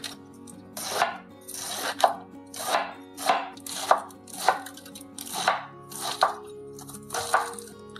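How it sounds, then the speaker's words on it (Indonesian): A knife thinly slicing cabbage on a cutting board for fried rice vermicelli: about a dozen crisp, evenly spaced chops in a steady rhythm, close and clear with nothing else heard. "Kemudian saya iris tipis juga kolnya."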